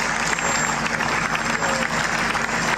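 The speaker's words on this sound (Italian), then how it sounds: "Un lungo applauso ha chiuso il momento solenne." Long, steady applause from a large crowd at an outdoor memorial ceremony for Judge Paolo Borsellino in Sicily, a dense continuous wash of clapping with no breaks.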